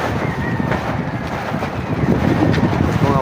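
Strong wind buffeting the microphone in a constant roar, with gusts swelling louder toward the end.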